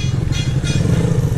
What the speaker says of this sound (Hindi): बाकी ये जो है मैं अमित भाई की अभी ड्यूक चला रहा हूँ।